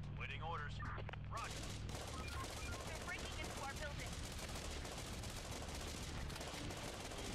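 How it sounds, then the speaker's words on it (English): Continuous video-game gunfire, dense rapid bursts and machine-gun volleys layered into a loud, sustained barrage, with a low hum and brief tonal sounds early on. "We need you guys over here shooting."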